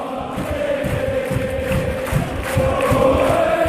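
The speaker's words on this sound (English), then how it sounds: "That might sound like a happy crowd" Football fans fill St Mary's stadium with a steady, dense roar of crowd noise, with a broad unbroken wash of many voices and a slight swell toward the end.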